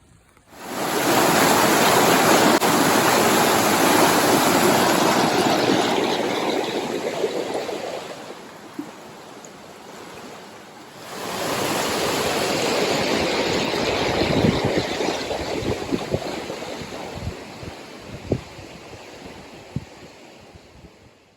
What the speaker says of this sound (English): It's a raging river.